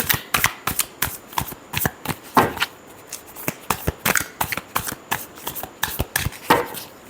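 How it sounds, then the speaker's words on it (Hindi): Tarot cards are shuffled by hand in rapid, irregular riffling snaps that continue steadily throughout, close and clear with no talk. "Last shuffle."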